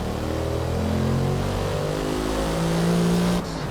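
A race car engine in Forza Motorsport, a Super Sedans class race, drones loud and steady at speed with sustained tonal whine and slight pitch shifts, then cuts off sharply near the end.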